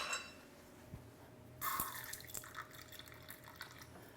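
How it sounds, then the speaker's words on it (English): A small amount of water is poured into lentil flatbread batter, a faint close trickle and splash after a couple of soft drips, with light clinks and stirring afterward. "I am gonna add just a little bit of water,"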